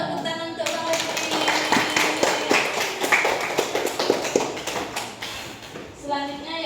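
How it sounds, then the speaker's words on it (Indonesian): An audience claps for Bang Rifki in a classroom lesson on prostration prayers, the dense, even applause running for several seconds before fading and giving way to a speaking voice. "tepuk tangan untuk Bang Rifki"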